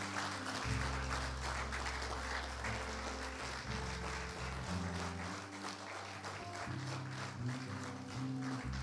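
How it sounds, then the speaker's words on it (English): Church congregation applauding together after a closing prayer at a Ghanaian church service in Cambridge, a steady wash of clapping that carries on under quiet background tones. "Let's give the Lord a round of applause."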